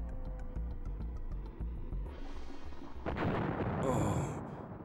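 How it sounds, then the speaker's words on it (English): Pipe bombs and dynamite go off in the Duke Nukem: Land of the Babes video game, two heavy booming blasts in quick succession under a narrating voice. "Just be careful of your own explosions."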